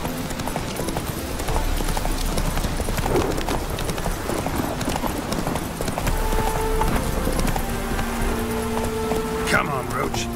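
Roach the horse gallops through The Witcher 3 with steady rhythmic hoofbeats clopping close and loud throughout, over a continuous wash of rain-like ambience and a few faint bright chimes near the end.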